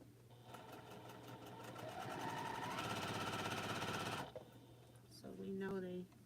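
Close up, a sewing machine runs a quilt seam in a steady whirring burst of rapid needle strokes, then stops, with a person talking quietly over and after the stitching.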